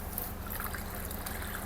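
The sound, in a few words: water filling an orchid sprayer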